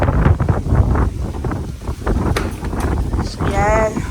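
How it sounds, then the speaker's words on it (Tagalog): Strong wind buffets an open microphone at a campsite, a loud, continuous rumbling roar with gusts that rise and fall while people speak over it. "Sobrang hangin."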